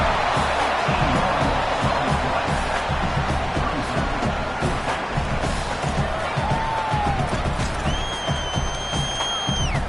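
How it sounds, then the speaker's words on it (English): Stadium crowd in a football video game roars continuously and loudly, with dense cheering and scattered whistles, building toward a fourth-down defensive stand. "The crowd is loud, hoping for a 4th down stop."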